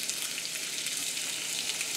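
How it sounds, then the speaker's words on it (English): Chateaubriand beef tenderloin sizzles while being reverse seared, a steady, close frying crackle that fills the whole moment with no talk. "Now, you want to hear the sizzle. So, let's see if we can go. Yeah. So, we're searing now."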